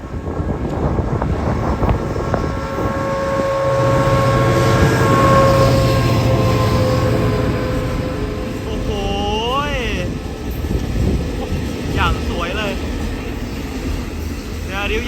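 Freight train no. 553, a very long Thai train, accelerates through Ban Chong Tai station with a steady heavy rumble, drawn-out horn tones and wind buffeting the microphone, while someone talks excitedly over it.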